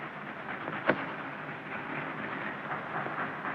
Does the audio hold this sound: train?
yes